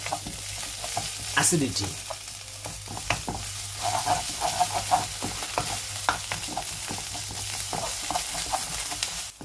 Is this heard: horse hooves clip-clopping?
no